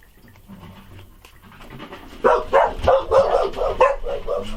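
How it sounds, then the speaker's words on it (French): A dog pants and gives a run of short yips and barks, close by, after a quieter stretch of wind-like rustle. "c'est le vent et mes chiens."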